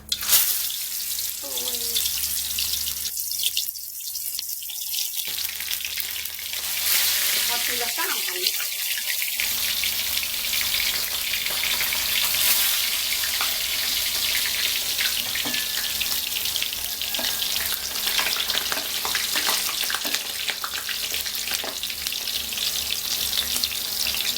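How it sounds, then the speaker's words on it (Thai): Lao-style stuffed bamboo shoots fry in hot oil with a steady, crackling sizzle that runs nonstop, mixed with some running-water noise in the first seconds. "ตั้งน้ำมันฮ้อนแล้วก็จีเอานอลงทอดละ"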